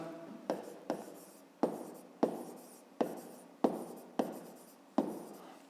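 Writing out a fifth-grade math solution on paper, a series of eight crisp strokes and taps at a steady, unhurried pace, quiet and close with nothing else around.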